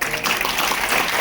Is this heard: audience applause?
yes